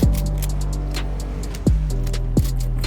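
A vehicle in the Fortnite video game approaches under steady game ambience, with its engine hum running throughout, two sharp descending whooshes and a string of light ticking clicks.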